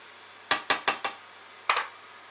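A lid goes onto a pot of Ghanaian corn porridge, giving four quick metallic clinks in a row and then a single clink after a short pause, close and sharp over a quiet background.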